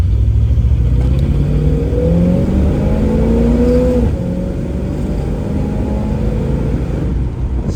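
A 1967 Chevrolet Camaro's 350 V8 engine roaring steadily as it accelerates to 60 mph, pitch climbing and dropping with each gear change, loud and continuous from inside the vehicle.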